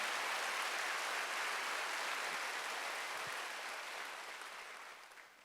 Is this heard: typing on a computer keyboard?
no